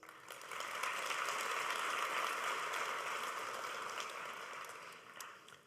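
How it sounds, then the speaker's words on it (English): Audience applause at a Hult Dubai graduation ceremony for an honorary doctorate recipient: a dense, sustained crowd clapping that swells quickly, holds steady, then tapers off near the end. "let's give a round of applause to Paul Polman, Hult's Honorary Doctorate degree recipient"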